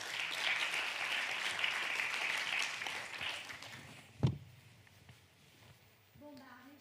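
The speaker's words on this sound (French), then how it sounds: "que vous pouvez une fois de plus applaudir" A crowd claps steadily for about four seconds, then the applause dies off with a single loud thump, and a voice begins speaking.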